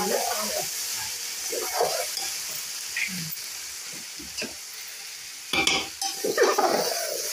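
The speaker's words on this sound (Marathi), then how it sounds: "आता घालूया भाजी। लगेच परतून घ्यायची।" Chopped jackfruit vegetable stir-fries in a pan on a village wood stove, sizzling steadily. Spoon scrapes and clatters against the pan come and go, with a louder burst of stirring near the end.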